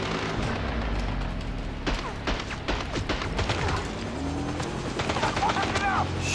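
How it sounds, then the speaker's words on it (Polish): Video game gunfire and a helicopter in Blood Stone 007: scattered bursts of shots and mechanical clatter over a whirring rotor drone, with voices talking throughout. "Helikopter."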